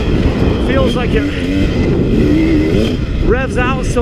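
A 2017 KTM dirt bike engine revs up and down in quick bursts, loud and close, with someone talking over it throughout.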